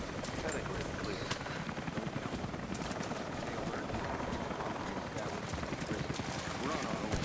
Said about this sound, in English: That was Constantine's chopper.